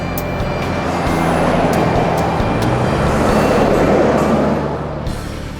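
A car drives along Ross Highway, its engine and tyre roar a loud, steady rush that swells slightly in the middle and eases off toward the end, with no voices.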